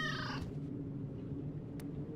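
A cat in the Super Fancy Pants Adventure video game gives a short, bright meow at the start, followed by a quiet background hum and a brief click.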